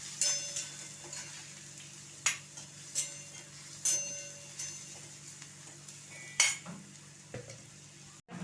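Onion-garlic masala frying in a pan while a spoon stirs it, with a low steady sizzle broken by repeated sharp scrapes and clinks of the spoon against the pan, close by and without talk.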